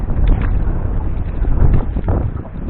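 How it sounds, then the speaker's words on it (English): Wind buffets the microphone on a jon boat during a bass fishing trip, a steady, loud broadband rumble with gusty surges and no clear speech. "Sorry about the wind noise."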